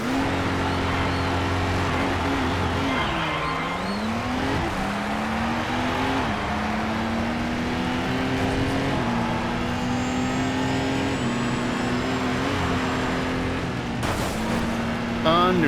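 A race car engine in the video game Race Driver: Grid roars loudly and continuously, its pitch dipping and climbing through gear changes, with a voice faintly present beneath it.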